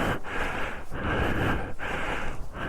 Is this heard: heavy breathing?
yes